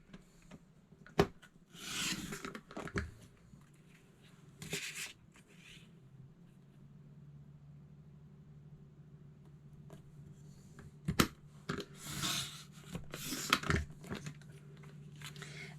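Cardstock for a Creative Memories fall scrapbook layout is cut on a trimmer: soft sliding rasps and scraping strokes in two separated bursts, with small clicks and taps between, fairly quiet and close.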